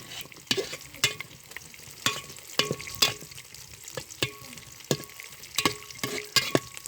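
Food fries in a pan while a spatula stirs it, giving a run of sharp, irregular scrapes and knocks over a quiet, steady sizzle, close by, with no talking.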